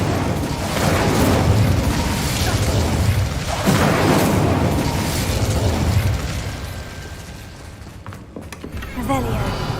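An Incendio fire spell bursting in a Harry Potter video game, with loud, rolling booms and fiery whooshes that swell, fade and flare again over several seconds.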